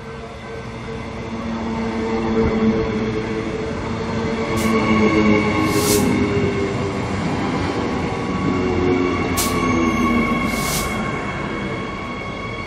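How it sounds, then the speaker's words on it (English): A Brisbane suburban electric multiple unit on 3'6" gauge track under 25,000 volt AC overhead wires arrives at Rosewood station from Ipswich: a steady rolling rumble with rail hum, and two brief high squeals or whistles partway through. "electric multiple unit suburban train coming in from Ipswich into Rosewood"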